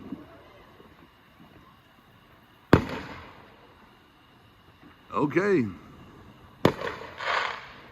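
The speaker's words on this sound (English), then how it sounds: "They've got some decent fireworks too." Fireworks set off outdoors on grass during Texas floods, with two sharp cracking bangs and a whistling rising streak between them, and a person speaking briefly.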